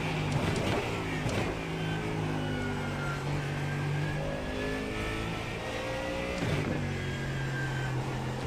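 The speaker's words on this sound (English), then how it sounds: "the Mustang just seems to have so much torque. Big, grunty V8." A Mustang GT3 race car with a big V8 engine revs loud and close, its pitch climbing through gears with brief shift dips in a continuous roar.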